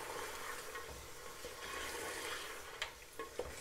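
Mutton korma cooking in a pot, a soft continuous sizzle with faint stirring scrapes and a couple of light clinks near the end, quiet and close with no voices.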